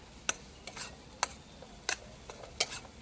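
A spoon stirs mohanthal flour with ghee in a pan, giving soft irregular scraping strokes and clinks about every half second, close and fairly quiet with no talking.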